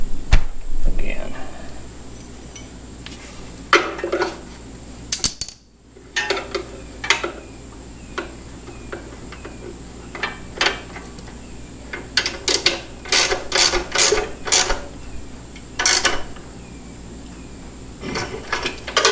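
Hand wrench working sissybar mounting bolts on a Harley-Davidson Iron 883 in a garage, sharp metallic clicks and ratcheting bursts in irregular clusters, fairly close, with someone talking throughout.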